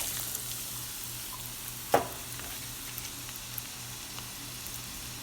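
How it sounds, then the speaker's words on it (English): Onions frying in oil in a hot pan, a faint, steady sizzle with a single brief clatter near the two-second mark and occasional soft pops. "heat the pan with some oil. I am going to add the onions,"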